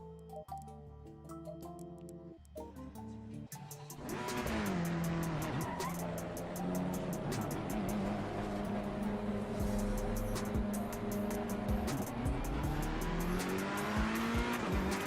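A Ferrari race car in Assetto Corsa Competizione at Donington starts quiet, then its engine roars in loud and close, pitch climbing and dipping through gear changes with tire squeal along the way.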